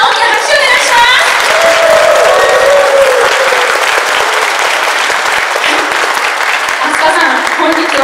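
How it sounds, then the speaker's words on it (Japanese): A crowd at the Sugamo Police Station crime-prevention festival in 2024 claps loudly and steadily, welcoming an Electone player, while an announcer's voice carries over the applause. "皆さん大きな拍手をお願いします。"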